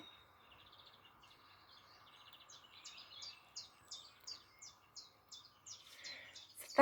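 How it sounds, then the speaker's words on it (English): A chiffchaff sings a series of repeated bright chirping notes in an even rhythm. The notes grow clearer and louder toward the end, with faint background hum and no talking. "So I'm going to play you a bit of bird song of the chiff-chaff"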